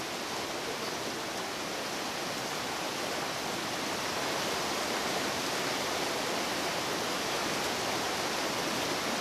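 Sipi Falls, a three-tier waterfall on the slopes of Mount Elgon in Uganda near the Kenyan border, pours in a steady, dense roar of rushing water that stays loud and unbroken throughout.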